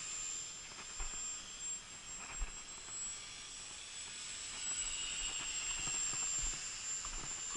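A faint, thin high-pitched whine of a Dynam Texan T-6 RC model airplane motor hums steadily in the distance, with soft wind noise underneath.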